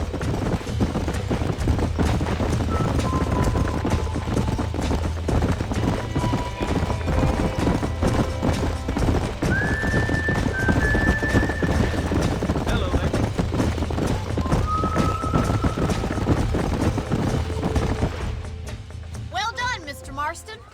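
Horses in the Red Dead Redemption video game clip-clop steadily at a trot for most of the stretch, hoofbeats dense and close over a low game soundscape with occasional whistle-like tones, fading out near the end.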